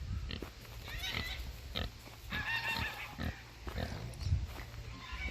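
Piglets on a farm grunt and oink in short, low, overlapping bursts close by, with a soft outdoor background and occasional rustling.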